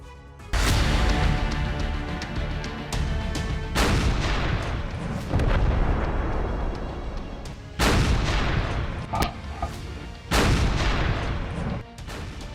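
A T-14 Armata tank fires a barrage of shells, and several loud, heavy booms crack out in irregular succession, each trailing off into a rumbling echo before the next shot.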